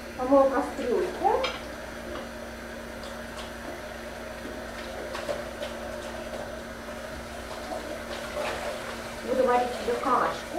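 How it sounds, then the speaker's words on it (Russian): A saucepan is rinsed under running water in a home kitchen, with splashing bursts at the start and end over a steady hiss of flow, metal clinking faintly, and a voice speaking over it. "Помою кастрюльку."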